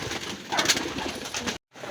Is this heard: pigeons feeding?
yes